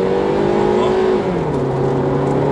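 A 2010 Subaru Impreza boxer engine revs up with a low, droning growl and rising pitch, then drops as it shifts and pulls again, loud and close.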